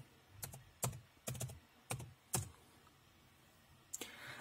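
Typing commands on a computer keyboard to repair a Windows 10 boot error, a handful of separate sharp key clicks in short irregular bursts, fairly close and clear against a quiet room, with a longer pause before a final few taps.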